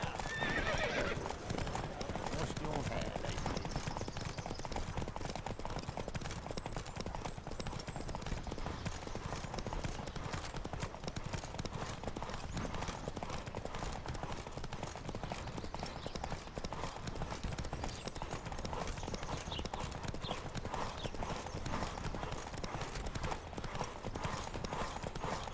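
Steady clattering hoofbeats of several galloping horses run continuously, loud and busy, with occasional faint whinnies mixed in, in the video game The Witcher 3: Wild Hunt.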